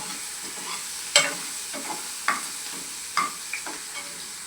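Onion sautéing in a pan, stirred now and then: a soft steady sizzle with a few sharp scrapes and clinks of the spoon against the pan, close and alone with no talk.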